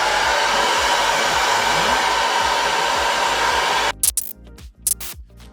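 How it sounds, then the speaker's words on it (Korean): Hair dryer blowing steadily on a man's short hair, a loud continuous whooshing roar that runs for about four seconds, then clicks off and sputters in short bursts. "드라이기를 이용해가지고 이렇게 말려주시면"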